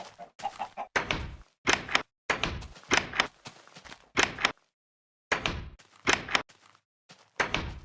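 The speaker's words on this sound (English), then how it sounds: "the chest at the time used to use the old door sound when you opened and closed it" Chest in Minecraft Beta 1.8 opening and closing with the old door sound, a series of sharp wooden creaks and thunks repeated in quick succession, close and loud, with no talking.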